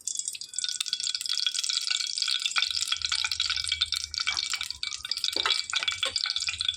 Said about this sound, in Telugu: ఆయిల్ వేసేసుకోవాలండి